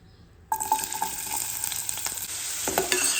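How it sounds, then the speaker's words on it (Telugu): Onions and green chillies dropped into hot oil burst into a sudden loud sizzle after a quiet start, then keep crackling and spitting close up for a few seconds. "ఇప్పుడు ఆనియన్స్ అండ్ అలాగే పచ్చిమిర్చి వేసుకోవాలి."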